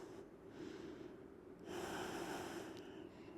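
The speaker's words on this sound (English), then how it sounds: "Long, deep breath in the nose, and then out of the nose." Slow, deep breaths drawn in and let out through the nose during a yoga session: a soft, airy hiss that swells into a longer, louder exhale, steady and close with no talking.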